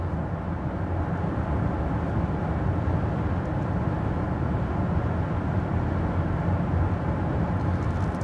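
Cabin noise inside a Citroen C5 X plug-in hybrid cruising at 120 km/h in hybrid mode, a steady, even broadband hum of road and wind noise with no talking.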